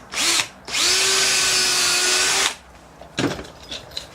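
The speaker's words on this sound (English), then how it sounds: "I'm going to have to drill both the holes down through from the top." A power drill drives screws into wooden boards, with a short burst and then a long sustained whine from the motor, followed by clunks and handling knocks, close and loud with no talking.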